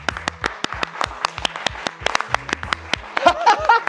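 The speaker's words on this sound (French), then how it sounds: "Est-ce qu'on peut accueillir avec un tonnerre d'applaudissements Fabien ?" Scattered audience clapping greets a comedian at a stand-up comedy show, sharp distinct claps in an uneven rhythm, with some laughter and chatter rising near the end.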